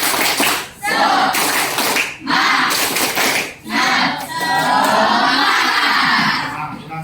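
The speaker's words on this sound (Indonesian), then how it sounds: "Kita tepuk semangat dulu ya." A school class at a junior high in Tegalbuleud does a rhythmic spirit clap on a teacher's cue, loud bursts of group clapping broken by short pauses, with children shouting and voices mixed in nearby.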